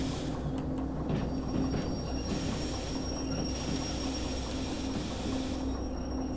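A locomotive running with no cars attached in the train simulator game Derail Valley, a continuous rumbling rail drone with wheel squeal and faint clicks, steady and close throughout, no voices.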